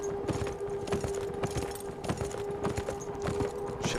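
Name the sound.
horse galloping in video game Beyond Two Souls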